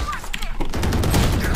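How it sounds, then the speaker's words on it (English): Shotgun fire in the video game Valorant: a rapid burst of loud gunshots that overlaps an excited voice talking. "I shot him right in the head with the fucking shotgun!"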